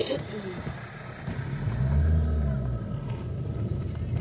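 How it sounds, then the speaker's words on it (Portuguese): A bus rumbles past on a coastal road, its low engine swelling to a peak and fading as it goes by, with a person talking over it. "Olha o ônibus."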